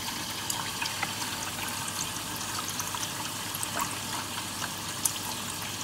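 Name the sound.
bucket being filled with cold water from the tap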